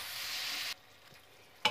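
Chicken sisig being stirred with seasoning mix in a frying pan: a steady close sizzle and scraping that stops abruptly partway through, followed by quiet and a brief clatter at the end.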